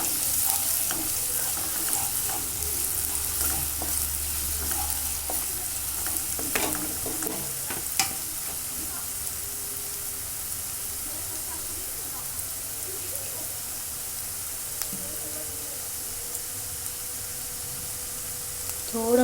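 Onion sautés in a pan until brown, a constant close frying hiss like light rain with occasional clinks and stirring scrapes, and a voice faintly heard at times.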